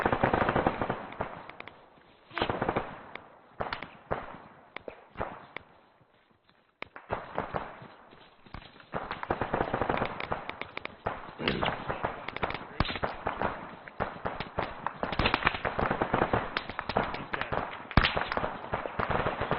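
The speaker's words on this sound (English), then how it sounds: "Somebody in that warehouse shooting at you guys." Sustained gunfire from a warehouse during a military field training exercise, dense rapid bursts of cracking shots that run almost without pause, loud and harsh, with a short lull before the firing resumes.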